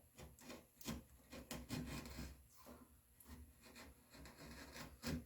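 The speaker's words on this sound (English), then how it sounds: "Skew your chisel, but I'm well away. What this is doing is just breaking right to that knife wall." A chisel paring walnut back to a knife wall, heard as quiet, irregular rasping and scraping strokes of wood fibres being shaved, close by with no speech.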